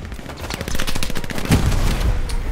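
Close automatic gunfire from the World War II shooter game Hell Let Loose, rapid rattling rounds with heavier booms mixed in.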